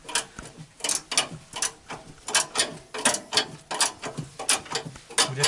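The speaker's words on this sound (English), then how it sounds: "We're just using a ratchet spanner to spin them over, and we're backing them out." A ratchet spanner backs out bolts while top arm camber shims are fitted on a Ford Ranger / Mazda B2500, producing loud, close, rhythmic bursts of clicking in an even back-and-forth pattern.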